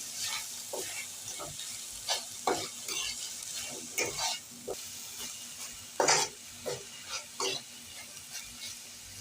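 Chopped garlic and finely cut ginger sautéing in a pan, a steady soft sizzle under repeated scraping and stirring strokes of a spoon against the pan.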